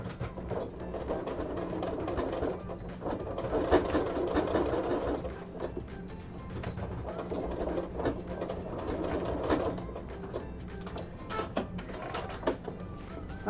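A sewing machine stitches a fabric wallet in steady bursts of rapid mechanical chatter, close and clear, starting and stopping several times over a low motor hum, with no talk.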